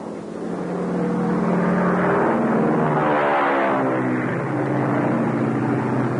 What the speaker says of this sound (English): Sounds like one of our airplanes.